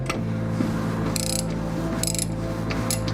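A ratchet backs a hardened tapered threaded bolt out of a stripped aluminum oil pan, giving loud close clicking with a low mechanical hum and a few bright metallic bursts.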